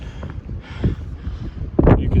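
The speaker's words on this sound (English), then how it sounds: "the wind is gusting pretty bad" Strong wind gusts buffet the top of a lookout tower along the Appalachian Trail near Fontana. Low, uneven rumbles of wind batter the microphone in bursts, with two heavier blasts standing out.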